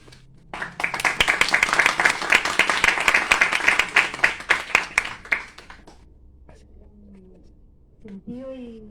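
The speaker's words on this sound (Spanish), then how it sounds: "Sentido y caluroso aplauso por Felipe" Audience applause at a Chilean book presentation, a dense burst of clapping that swells for several seconds then thins into scattered claps and fades, followed by a voice speaking.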